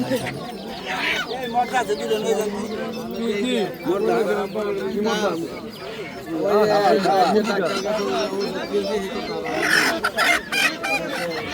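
Chickens cluck and squawk amid a busy crowd at a poultry market selling chickens, ducks and pigeons, with several people talking loudly close by throughout.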